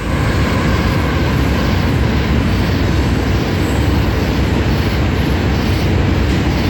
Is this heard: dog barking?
no